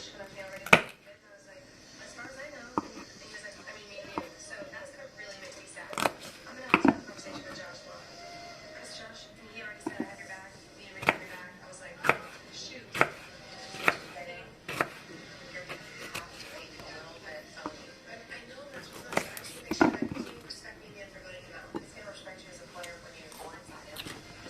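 A knife chops green pepper into slivers on a board, sharp irregular cuts spaced through the stretch, close and distinct, while a person talks over it.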